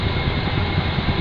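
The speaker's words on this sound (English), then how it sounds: "You can hear the APU spooling down" Auxiliary power unit of a Ka-50 Black Shark attack helicopter spooling down during startup in the DCS flight simulator: a dense, steady broadband whine and rumble, loud and continuous, with no voices.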